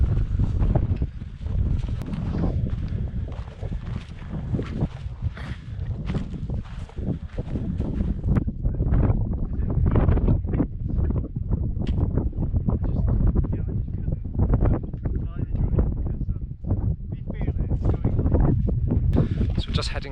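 Gusty wind buffets the microphone high on a Lake District mountain near Scafell Pike, a constant rough rumble with footsteps and rustling under intermittent talk.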